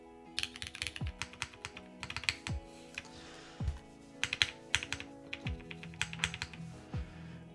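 Typing on a Suisei R3 mechanical keyboard fitted with MX2A switches and a PP plate: close, clacky keystrokes in uneven bursts with brief pauses, each press crisp and distinct, with no talking.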